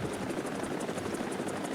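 A helicopter in the combat video game War Thunder flies with a steady, rapid rotor thump and engine whine, continuous and fairly loud, with no talk over it.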